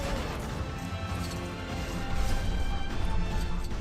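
A glass door smashes in the LEGO Marvel's Avengers video game, a dense crashing, shattering burst that builds louder midway over steady game noise and continues to the end.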